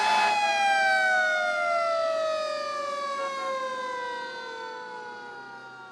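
Loud emergency vehicle siren wailing steadily with a slowly falling pitch, close and continuous, with no voices.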